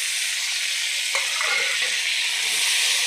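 Chili powder, turmeric, salt and tomato hitting hot oil with fried garlic in a pan, a loud steady sizzle and hiss with a few soft stirring scrapes, no voices.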